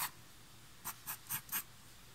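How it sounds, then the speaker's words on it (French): Fold lines being marked into paper while making a pop-up jumping cube for scrapbooking: four short, soft scraping strokes in an even rhythm, faint and close after a quiet pause. "je marque les plis dans les premiers 7 cm"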